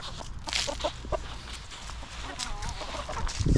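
Silkie chickens cluck softly in a coop at snack time, scattered fowl calls over rustling and movement, fairly faint and close.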